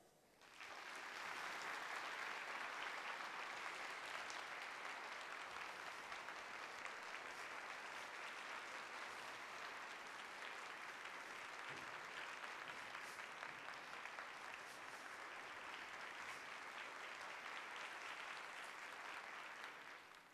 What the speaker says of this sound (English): I want everybody to clap and keep clapping